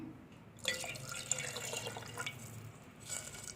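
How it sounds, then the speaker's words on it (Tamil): A tumbler of water is poured into a cooking pan with turmeric and tamarind, a close splashing pour starting abruptly and running for a couple of seconds before tapering into light drips. "இப்போ இதில் 1 டம்ளர் தண்ணீர் ஆட் பண்ணிக்கலாம்."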